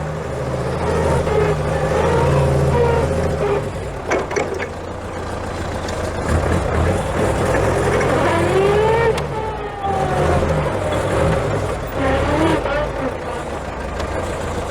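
A 30-year-old Daewoo FD 3.5-ton forklift drives at speed, its engine droning steadily and close throughout with some revving, while someone talks over it.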